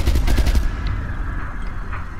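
Loud automatic gunfire in the video game Resident Evil: Revelations 2, a rapid close-range burst that rattles for about half a second, then leaves a dense rumbling tail.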